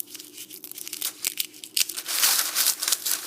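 Dry bean pods handled up close give a crackling, papery rustle like stepping on leaves, a steady run of crisp crunches and tearing sounds that grows denser toward the end.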